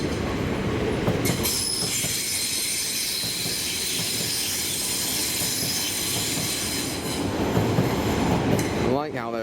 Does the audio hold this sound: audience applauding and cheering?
no